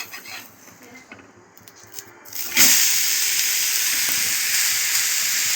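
An onion dosa cooking on a pan: quiet at first with a few light clicks, then a loud sizzle bursts in about halfway and settles into a steady, strong frying hiss.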